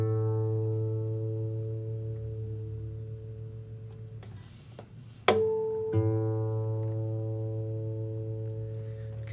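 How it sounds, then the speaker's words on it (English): A guitar's fifth string rings beside a tuning fork's steady tone, sustained harmonic notes overlapping and fading, broken by a brief rustle and a fresh pluck midway as the tuning key is turned, with no talking. "I took the tuning fork, played the string, turned down the tuning key, the knob, and I'm turning up into the tone"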